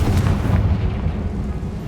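Confringo blast spell explodes in Hogwarts Legacy, a loud, dense booming burst that sustains through the whole short span with rumbling low-end energy.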